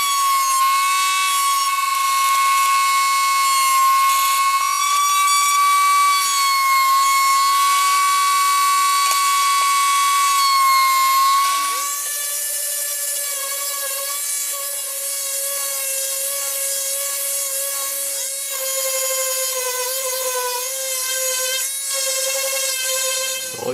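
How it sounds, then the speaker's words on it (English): Power router running steadily as it cuts a small decorative chamfer around the inside of a wooden barrister bookcase, a loud sustained whine that shifts pitch midway and continues unbroken, with no talk. "we're going to run a decorative small chamfer all the way around the inside"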